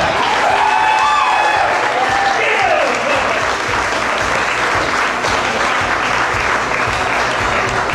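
Sustained applause from a wedding audience, steady and fairly loud for the full stretch, with a faint voice briefly audible early on over the clapping.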